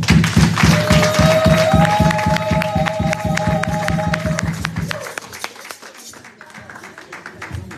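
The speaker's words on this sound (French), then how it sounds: "on l'accueille avec des applaudissements" At a church worship service for Women's Month, a congregation claps in a steady, even rhythm, with loud, evenly spaced claps over a sustained musical tone for about five seconds. The clapping then thins into scattered, quieter claps and crowd murmur.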